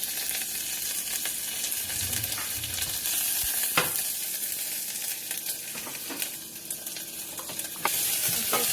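Curry leaves and asafoetida frying in hot oil for tempering, a continuous dense sizzle with occasional crackles and spoon-stirring clicks, close and steady with no talking.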